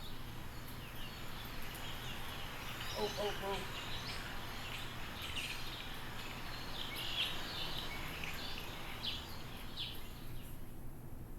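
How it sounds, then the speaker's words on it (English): Bird sound effect playing in an Unreal Engine 5 level: faint, scattered high chirps over a low background hiss, with brief exclamations from a voice over them. "Oh, see, I hear the birds."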